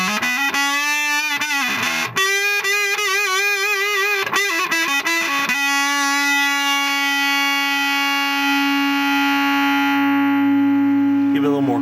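Distorted, fuzzy electric guitar notes through a Mossy Bump fuzz pedal bend and sustain, then ring out into a long held tone, with a steady background hiss throughout.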